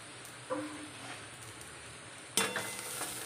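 Fried onions being sautéed in a pan with a spatula, giving a steady low sizzle broken by a few stirring scrapes and a louder stir near the end, close with no talking.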